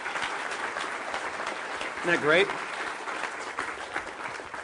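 An audience applauds an artist in a steady, moderately loud clapping wash that runs throughout, while someone speaks briefly over it.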